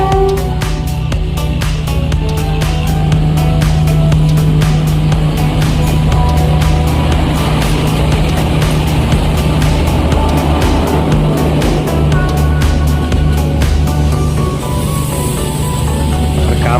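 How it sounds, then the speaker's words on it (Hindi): A train pulls away from Madhubani, its loud, continuous rumble and low hum filling the scene close by, with a faint brighter hiss and rattle on top and no talking. "ये देखियो मधुबनी से ट्रेन चले ले"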